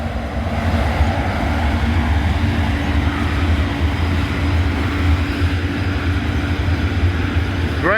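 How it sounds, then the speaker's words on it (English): An SCWX coal train rolls past at close range, a steady low rumble of rail cars and engine noise holding evenly throughout. "coal train."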